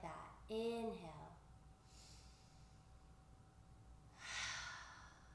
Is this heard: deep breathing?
yes